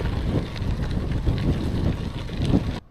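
Strong wind roaring across the microphone while riding a bicycle off-road on gravel, a loud, continuous buffeting rush that cuts off abruptly at the end.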